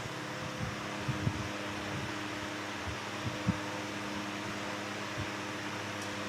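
A 2005 Lakewood 9-inch high velocity fan runs on medium speed, giving a steady, fairly quiet broadband whoosh of airflow with a low hum and a few faint knocks underneath.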